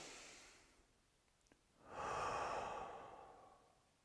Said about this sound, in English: one deep breath